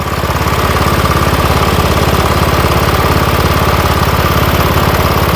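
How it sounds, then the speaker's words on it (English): A 2013 Cub Cadet LTX 1040 lawn tractor engine runs steadily up close, a loud, even, rapid chugging pulse with no breaks, after years of sitting unused. "Motor don't sound too bad"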